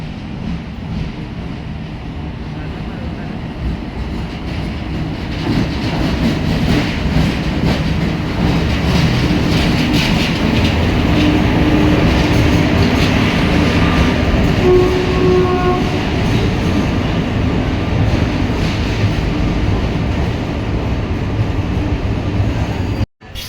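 Aurangabad Guntur Express train heard from on board while running, with a loud steady rumble and rattle of the carriage, rhythmic wheel clatter and a brief horn in the middle, continuous and close.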